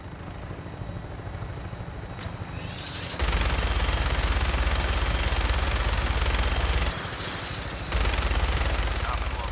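Loud, continuous helicopter rotor drone with rapid automatic gunfire from the air in Fallout 4, steady at first, then swelling into a dense roaring burst that drops back briefly before surging again.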